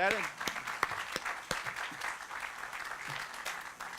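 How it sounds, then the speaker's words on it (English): At the grand opening of St. Louis's Cortex MetroLink station, an outdoor crowd breaks into moderate applause, scattered sharp claps building into a steady patter as a voice trails off at the start. "that certainly deserves a round of applause"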